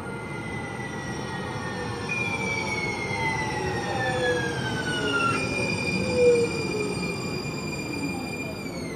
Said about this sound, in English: Just gotta wait for our train.